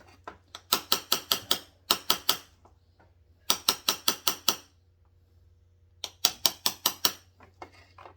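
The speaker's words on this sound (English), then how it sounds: "I'm just tapping, using the blunt end to tap the wire, the coil wire itself." Repeated tapping with the blunt end of a tool on the coil wire of a Stihl MS 201T chainsaw, heard as short bursts of sharp metallic clicks in quick runs of four to six, separated by pauses.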